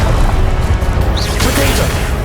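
Spell blasts from Hogwarts Legacy on PS5, Confringo and Incendio, go off in a loud, dense burst of crackling explosive impacts that last the whole stretch.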